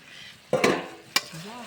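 Duck being cooked Chettinad style in a pot over a clay stove gives a soft sizzle, with two distinct stirring scrapes and a brief faint voice near the end.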